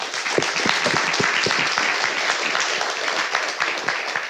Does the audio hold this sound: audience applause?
yes